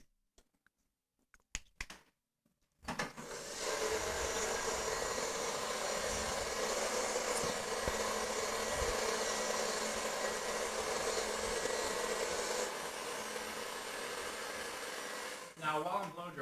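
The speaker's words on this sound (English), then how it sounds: "Now, while I'm blow drying, I'm trying to push these sides." A hair dryer blows steadily during a men's faohawk haircut, drying and pushing the sides forward. The broad, loud whoosh starts after a few seconds of quiet handling noises and runs without a break until it cuts off near the end.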